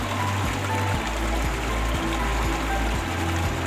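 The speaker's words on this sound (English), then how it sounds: "Water rushes in and fills the bed." Water rushing into a filter bed at a water treatment plant, a loud continuous gushing and splashing flow with a rhythmic mechanical thump underneath, steady and close throughout.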